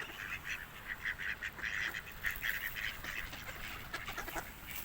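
A small flock of white ducks being fed grain quacks repeatedly in rapid, overlapping bursts, fairly faint and continuous against light background noise.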